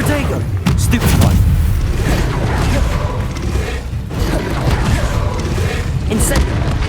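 A Confringo blasting spell goes off in the Hogwarts Legacy video game, a loud booming explosion amid sustained battle noise, with bursts of impact and a second heavy blast about two-thirds through. A voice speaks over the fighting.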